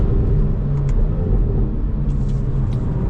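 A 2025 Hyundai i30 N's engine pulls hard under power on a race track, a loud, steady, close interior rumble with no gaps.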